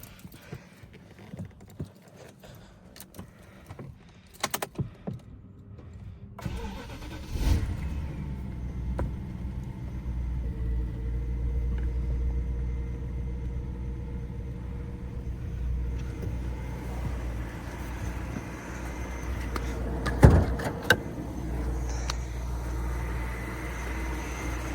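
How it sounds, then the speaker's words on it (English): A car engine cranks and catches after a few seconds of quiet handling noises, then settles into a low, steady idle rumble that holds for the rest of the clip, with one brief sharp knock near the end. "Here, I'll start her up real quick. So you guys hear the idle"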